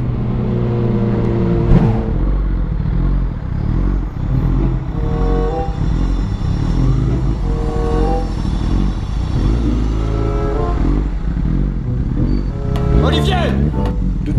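Car engine accelerating hard toward very high speed, a sustained revving roar with rising tonal bands and gear changes, heard under continuous talking and a sharp exclamation near the end.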